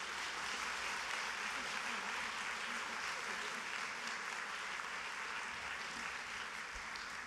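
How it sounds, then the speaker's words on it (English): A conference audience applauds after a keynote address, a dense and even roar of many hands clapping that stays loud and continuous throughout. "Give her a round of applause."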